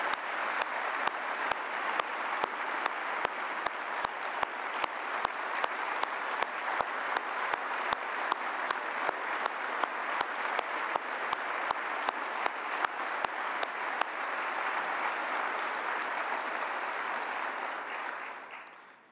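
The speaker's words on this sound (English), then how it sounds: "Folks, let's give Jim a round of applause." An audience at a 2019 State of the City address claps steadily in one long, even round of applause that fades away at the end.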